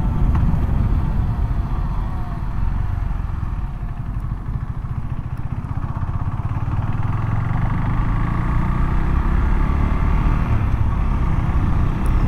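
A Husqvarna Svartpilen 401 motorcycle rides along a Dallas Fort Worth highway frontage loop, its engine and road rumble heavy and continuous with wind noise, swelling slightly in the final seconds.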